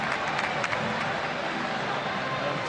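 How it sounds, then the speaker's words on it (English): A boxing crowd applauds at the close of a bout, steady dense clapping and murmur filling the space without a break, with no voices standing out. "Sporting round of applause for Rosberg."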